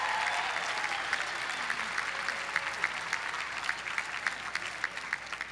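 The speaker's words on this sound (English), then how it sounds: "Give mothers and grandmothers and all of them a round of applause." A large audience at a commencement ceremony applauds for mothers and grandmothers: steady, dense clapping that fills the room throughout, with a few sharper individual claps standing out near the end.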